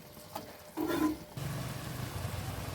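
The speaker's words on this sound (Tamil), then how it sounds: "இப்போ நல்லா கொதிச்சிருச்சு இப்போ நம்ம அடுப்பை ஆஃப் பண்ணிடலாம்" A pan of horse gram chutney mixture boils on the stove, a soft steady bubbling simmer with a brief louder burst near the start, close and fairly quiet.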